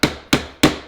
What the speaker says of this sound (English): How much are you moving the chisel back each chop?